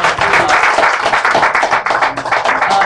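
Steady, dense applause from an audience honoring three speakers at a Detroit tribute event, loud and continuous for the full stretch with no pauses.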